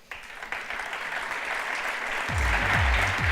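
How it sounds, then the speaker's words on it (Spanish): An audience applauds at an innovation awards event in Mexico, a sustained wash of clapping that swells as it goes on, with low thumps and a few brief voiced sounds near the end. "Un aplauso para él."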